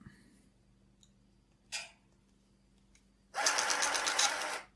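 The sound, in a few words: TRS-80 pocket computer printer printing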